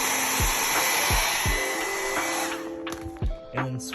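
A hair dryer warming a car emblem: a steady close whirring drone with a few sharp clicks and taps near the end, and no talking.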